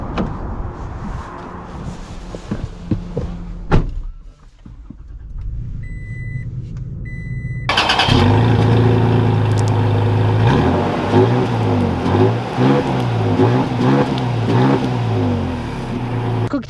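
A 2021 Toyota Tacoma TRD Off-Road pickup engine starts and idles, then rises into a loud, steady drive with shifting revs as it accelerates nearby.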